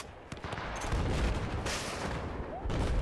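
Gunfire in the Battlefield 4 multiplayer shooter, a dense ongoing barrage of shots and booms with sharper cracks near the start and around the last half-second, steady and fairly loud throughout with no voices.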